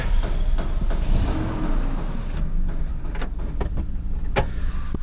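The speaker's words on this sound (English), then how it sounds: "power windows work" Power windows run in a 2002 Chevy Silverado 2500HD with a 6.0L LQ4 and 4L80E, a low motor whir heard close inside the cab, with a few sharp clicks and thumps as the glass moves.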